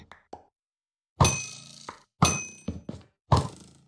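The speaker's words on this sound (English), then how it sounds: "I shall continue throwing projectiles, shooting these projectiles at my enemies." A bow firing arrows in the Minecraft Skywars video game gives a few sharp, dry thunks, each with a short clattering tail, spaced irregularly with brief silences between them.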